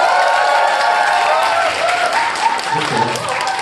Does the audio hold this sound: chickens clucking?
no